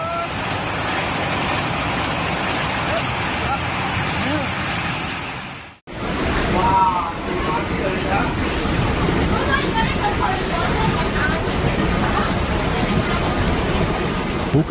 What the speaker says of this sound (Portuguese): Esse deslizamento de terra parece uma pequena cachoeira